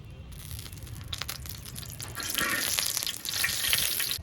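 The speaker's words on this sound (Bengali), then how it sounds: "কড়াইটা গরম হয়ে গেছে, তেল দিয়ে দেব" Oil sizzles in a hot wok for tempering, with a steady close hiss that swells louder partway through and a few crackling pops, and no talking.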